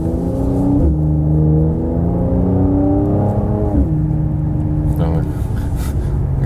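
A Mercedes C43 AMG C-Class facelift with an automatic gearbox accelerating uphill, its engine droning loudly close by and rising through gear changes, while someone talks over it.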